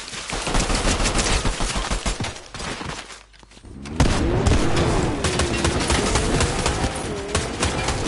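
Loud, rapid automatic gunfire fills a PC video game battle, with a brief dip before a renewed barrage and a rising, whistling tone running beneath it.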